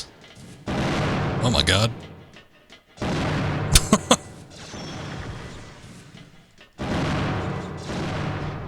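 Bursts of gunfire from the robot-battle video game Custom Robo, heavy punchy shots in separate clusters with a few sharp cracks, mixed with a man's excited speech.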